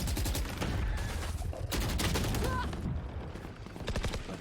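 Rapid gunfire in a Valorant esports match on the Ascent map as a player shoots down a turret, sustained bursts of shots under fast commentary in a busy game mix.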